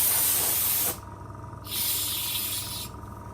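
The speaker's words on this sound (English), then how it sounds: "spray with the compressed air to get rid of any particles of dust" Two hissing bursts of compressed air spray, close and sharp, separated by a brief pause.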